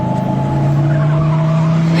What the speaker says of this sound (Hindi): गाड़ी रेशमा के पास रुकती है।